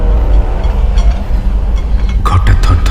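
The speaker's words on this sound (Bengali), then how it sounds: "ঘটাং ঘট শব্দ তুলে ঝড়ের বেগে ছুটে গেল কোনো এক্সপ্রেস ট্রেন" An express train rushes past at speed: a loud, steady low rumble with rhythmic rattling, then sharp metallic clanks and clatter near the end.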